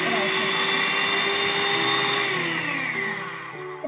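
Electric hand mixer beating cake batter with powdered sugar for a carrot and honey cake, a loud steady whirring whine that shifts pitch slightly near the end, with a voice speaking over it.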